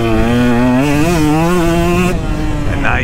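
A 2022 KTM 125XC two-stroke dirt bike at a motocross track revs loud and close, a buzzing engine note that wavers up and down and then cuts away near the end.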